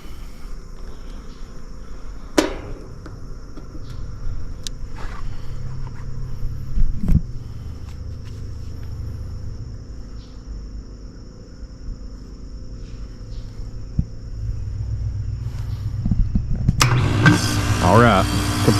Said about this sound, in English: compressor kicks on, the fan motor stays off, the reversing valve switches back over to what it would be in cool mode